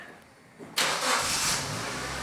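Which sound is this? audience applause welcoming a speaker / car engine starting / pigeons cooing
car engine starting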